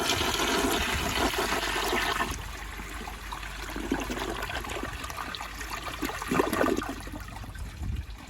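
A 1981 Eljer Emblem toilet on a flushometer flushes with a loud rushing surge that eases after about two seconds into lighter gurgling and trickling refill water, close by.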